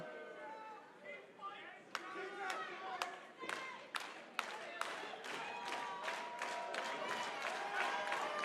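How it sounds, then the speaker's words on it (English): A wrestling crowd at a live lucha show claps in a steady rhythmic beat, sharp hand claps repeating about twice a second amid general chatter and cheering, with a commentator's voice over it. "Crowd here showing their appreciation, getting behind Tie or Die"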